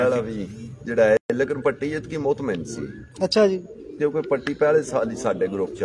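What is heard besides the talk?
racing pigeons cooing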